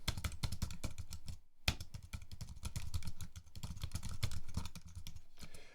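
Fast, close clattering of keys on a computer keyboard, with dense bursts of typing and a brief pause midway.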